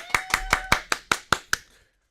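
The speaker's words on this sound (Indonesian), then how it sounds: "Kasih tepuk tangan dulu dong." Eight crisp, evenly spaced hand claps ring out for a guest, the chair of the West Java Mojang Jajaka, on a talk show, then stop into quiet.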